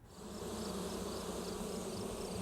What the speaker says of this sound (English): a stand of echinacea bristles with bees